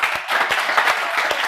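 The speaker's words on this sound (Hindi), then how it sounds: "एक बार जोरदार तालियां अपने लिए।" Students in an online CA Foundation law revision class applaud themselves, a short burst of steady clapping with a few sharper individual claps standing out.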